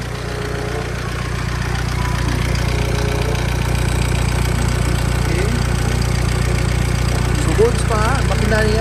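A 2012 Mitsubishi Strada 4x4 pickup engine idles in a steady, low, even drone with a faint rhythmic knock, close and constant, while voices talk intermittently over it.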